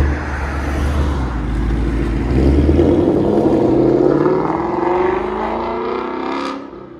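A 2019 Ford Mustang GT with a 5.0L V8 and Corsa Extreme double helix X-pipe catback exhaust revs up and pulls away, its deep engine roar rising loud and close, then easing off as it passes.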